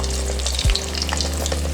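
Potato home fries fry in hot oil with a dense crackling sizzle, a brief low thump as a batch drops in partway through, then steady bubbling, no talk.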